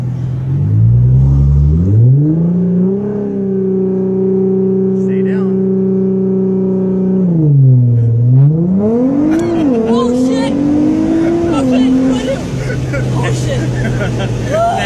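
A car on a launch control start holds a steady high rev, dips, then surges and pulls away hard. The engine drones loud and close, its pitch rising as it accelerates, with voices faintly mixed in.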